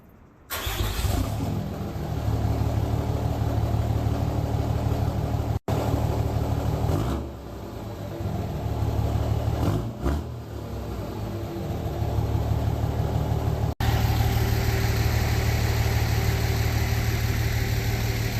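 A 24-valve Cummins diesel in a truck cold-starts and settles into a steady, loud, close idle, a continuous low rumble with a faint clatter that holds throughout with only brief dips.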